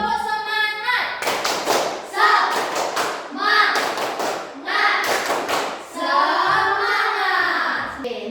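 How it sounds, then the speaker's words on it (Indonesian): Schoolchildren in a classroom perform a rhythmic spirit clap, sharp claps and thuds in short patterned bursts alternating with children's voices chanting in unison. "Ayo semangat dulu, tepuk semangat."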